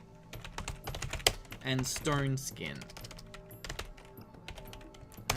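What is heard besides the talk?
typing on a computer keyboard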